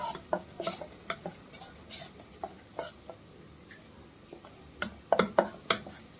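A spoon scrapes and clinks against a steel bowl while dosa batter is stirred for dhokla, giving irregular close taps in uneven bursts that bunch up near the end.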